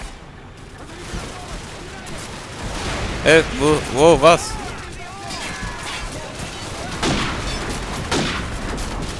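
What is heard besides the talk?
gunfire in Call of Duty 4 Modern Warfare video game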